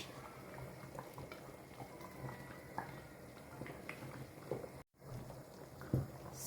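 Thick achi soup is stirred in a pot, a low bubbling and faint scraping of the spoon continuing quietly, with a brief gap and a soft clunk near the end.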